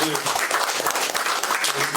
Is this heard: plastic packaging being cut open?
no